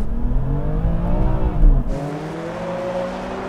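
Four hot hatches and coupes, an AMG A45S, BMW M2, Audi RS3 and VW Golf R, launch together off the line in a drag race, a loud dense engine roar with rising revs that swells, then drops into a steadier, quieter drone.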